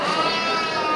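A goat bleats continuously at close range through a brief moment, a steady wavering cry with no talk over it, a week before the fasting month.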